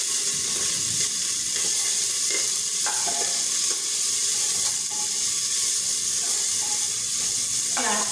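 Onion frying in hot oil with red chilli and curry leaves for sambar, a steady close sizzle with occasional stirring scrapes running throughout.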